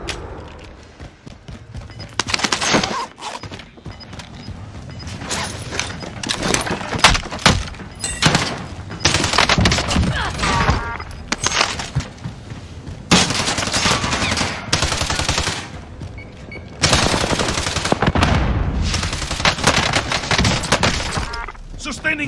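Video game gunfire rattles in rapid automatic bursts and single shots almost without pause, while voices talk over the shooting throughout.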